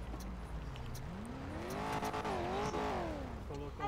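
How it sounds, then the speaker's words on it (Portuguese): A truck being parked, with a rising and falling engine drone and tonal whine close by, under steady background noise and voices. "Vou só parar meu caminhão aqui de um jeito legal."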